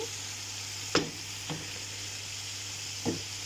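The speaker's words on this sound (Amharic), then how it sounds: "አሁን ለሩዜን የሚመጥን ውሃ እጨምራለሁ።" Soft, steady sizzle from a pot of browned chicken being prepared for rice as water goes in, with a few faint clicks and knocks scattered through it.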